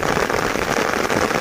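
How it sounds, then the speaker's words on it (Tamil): Heavy rain falls outdoors during a fishing trip, a steady, dense hiss with no break and no voices. "பாருங்க, அடுத்த மழை ஸ்டார்ட் ஆயிடுச்சுங்க."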